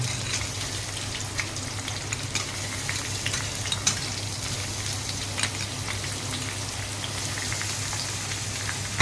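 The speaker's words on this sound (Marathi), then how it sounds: "कांदा पण आहे ना चांगला फ्राय करून घेऊया" Onions and garlic frying in a pan for a dry Malvani-style chicken dish, giving a steady, close sizzle with light crackling throughout and no talk.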